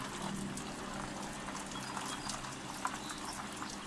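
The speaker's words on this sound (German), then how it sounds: "Es regnet gerade recht heftig." Heavy rain at harbor docks in the Titan Quest game, a steady dense hiss of falling water running continuously and fairly faint, with no talk.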